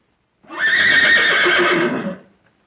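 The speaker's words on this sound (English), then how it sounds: "Where is his horse?" A horse whinnies indoors inside a house library in a 1930s comedy film, one loud, close, drawn-out neigh lasting about a second and a half, standing alone.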